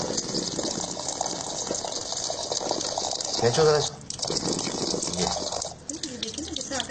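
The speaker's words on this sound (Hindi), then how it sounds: "अब ये पानी साफ निकल रहा है" Water runs steadily as kneaded flour dough is washed by hand, a continuous splashing gush that briefly swells and dips, with someone talking over it throughout.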